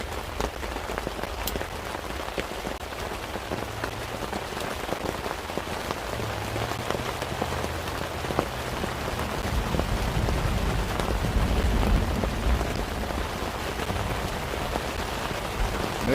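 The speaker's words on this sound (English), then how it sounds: "I hope y'all are enjoying the sound of the rain" Rain falls on a surface in a steady, dense patter, close and continuous throughout, swelling slightly louder in the middle with faint low rumbling underneath.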